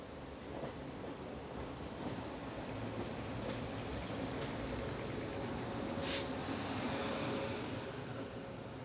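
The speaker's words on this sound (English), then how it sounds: "It's a painfully slow departure from Panvel as we need to negotiate multiple turnouts" Mumbai LTT–Mangaluru Central Matsyagandha Express pulling slowly out of Panvel station over multiple turnouts, a steady low rumble of wheels and carriages with a brief squeal, continuous and fairly close, no talking.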